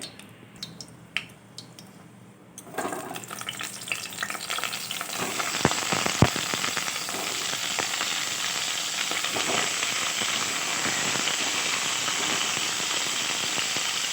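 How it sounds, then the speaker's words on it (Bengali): Pointed gourd (potol) frying in white cooking oil in a wok, a steady loud sizzle rising after a quieter start and holding with crackles and a few stirring clinks. "প্রথমে আমি পটলগুলো একটুখানি ভেজে নেব"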